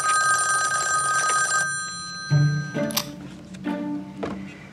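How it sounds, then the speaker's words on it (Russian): A telephone rings in a quiet indoor setting in a Russian detective drama, a steady electronic ring for about a second and a half, followed by a few soft thumps and handling noises. "Алло, Ирочка"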